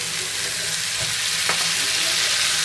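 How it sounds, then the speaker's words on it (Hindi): Tomatoes added to frying onions in a pan for okra curry, a steady loud sizzle with a soft thud and brief stirring scrape, close and with no talking. "अब हम इसमें डालेंगे टमाटर,"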